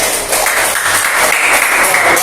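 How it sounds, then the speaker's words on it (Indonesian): A classroom group gives a student a round of applause during a teaching assessment at Universitas Tadulako, a loud, steady wash of clapping from nearby hands with no talking over it. "Berikan tepuk tangan kepada Nadira"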